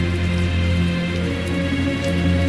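Rain falls steadily in Tales of Zestiria, a soft continuous patter layered over a low sustained game hum, with no voices.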